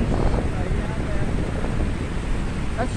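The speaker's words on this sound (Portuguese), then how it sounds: "Olha essa escada de cascata, que delícia" Water rushing down a cascade staircase in a park in Castelo Branco, Portugal, a constant broadband wash mixed with wind buffeting the microphone, close and loud without a break.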